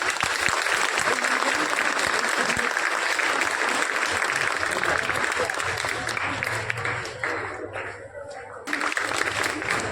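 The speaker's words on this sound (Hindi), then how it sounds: "बाकी बच्चे ताली बजा सकते हैं।" Schoolgirls applaud at a prize announcement during a five-day Young's Club Sujangarh program held at the Kanoi girls' school. The applause is dense and continuous, then thins out toward the end, with faint voices underneath.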